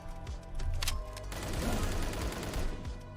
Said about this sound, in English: it does seem like gun was shooting faster for a moment